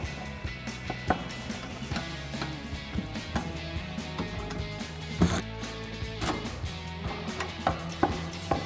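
Bumper hardware on a Jeep Wrangler JL Barricade HD3 stubby front bumper is tightened with a 4mm Allen socket and a 10mm wrench, giving repeated ratcheting clicks and metallic knocks at close range.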